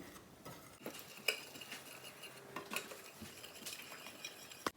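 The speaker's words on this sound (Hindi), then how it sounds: "इसको अच्छी तरह से मिक्स करते हैं अभी।" A spoon stirring dry spices such as red chili, paprika, salt and black pepper in a bowl for a zinger burger coating, soft scraping with occasional light clinks of metal on the dish, quiet and close, no talking.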